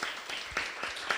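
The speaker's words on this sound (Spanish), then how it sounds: "yo quería que los que están aquí presentes le diéramos un aplauso" A short burst of audience clapping thanking participants at a studio event, a brief patter of several hands heard close.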